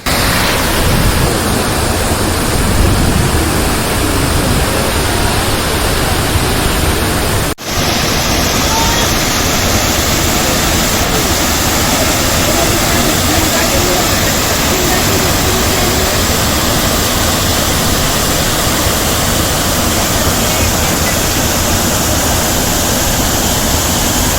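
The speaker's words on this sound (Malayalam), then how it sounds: "കാതിൽ താഴേക്ക് പതിക്കുന്ന വെള്ളത്തിൻ്റെ ഹൂകാര ശബ്ദം" A loud, steady roar of the Kanthanpara waterfall, its water crashing down in a continuous broadband rush that fills the whole stretch with no voices on top.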